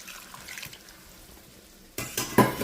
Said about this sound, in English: There's our 2 cups of water here.